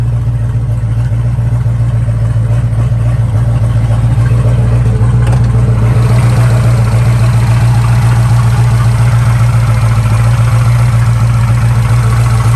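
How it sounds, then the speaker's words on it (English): A 1958 Plymouth Fury with a fuel-injected 451 big block engine idling, a loud, steady deep rumble with an even hum throughout, heard close up and alone. "There's our 451 Golden Commando, 666 horsepower."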